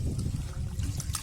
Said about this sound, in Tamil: அடுத்தது அந்த நம்ம புடைச்ச கோதுமையை ஒரு பாத்திரத்தில் தண்ணி விட்டு